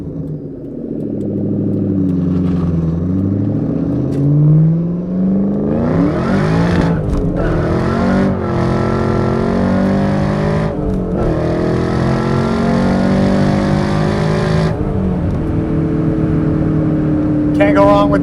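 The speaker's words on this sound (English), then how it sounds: "this one with the exhaust note with the Borlas, it's a perfect combo if you ask me" A 2003 Ford SVT Cobra 10th Anniversary with a Borla exhaust revs loudly and close up, its engine note rising and falling in repeated sweeps throughout.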